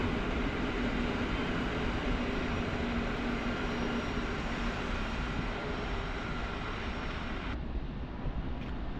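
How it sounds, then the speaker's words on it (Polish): Long passenger train rolling past at Warszawa Wschodnia station, a continuous loud rumble and rail roar lasting throughout, easing slightly near the end. "sądząc po długości, to musi być pociąg Zosia"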